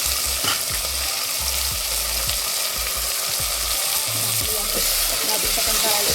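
Tomatoes tossed into a hot frying pan for a quick spinach khichdi, giving a steady close sizzle and frying hiss with low stirring scrapes and clacks throughout, no talk.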